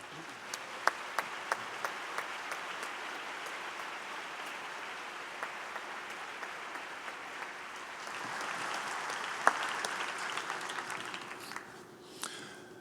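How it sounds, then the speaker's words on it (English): Audience applause at a McGill University fall convocation ceremony, honoring a jazz quintet; steady, dense clapping from a large crowd fills the hall, swelling toward the end before fading out. "let me ask you to join me in giving the Brian Sand Quintet a very warm round of applause"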